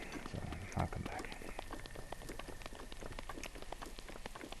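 Rain pours steadily in Breath of the Wild, a dense hiss with crisp droplet ticks throughout, and a brief louder thump near the start.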